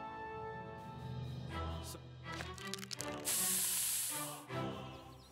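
Pepper spray is sprayed in the video game South Park The Stick of Truth, a sudden loud hissing burst lasting about a second after some rustling and thumps.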